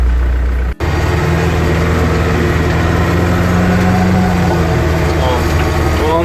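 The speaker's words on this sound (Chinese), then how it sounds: "我现在用 2档 用2档拨前进，然后 PTO 用1档 我试着打田给大家看看" A Yanmar US545 tractor engine holds a fixed throttle while tilling a field with the PTO engaged, a steady close low drone with a dense rumble that drops out for a split second near the start, then runs on unchanged.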